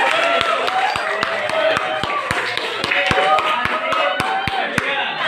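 Schoolchildren in a classroom clap together in a fast, fairly regular rhythm of distinct close claps over a noisy room, with faint voices mixed in.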